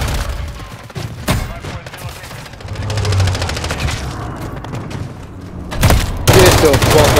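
Shotgun blasts in the Stash House video game during a swarm: several loud, punchy shots spread across the clip with a rumbling boom near the end, over a busy game background, with a voice talking.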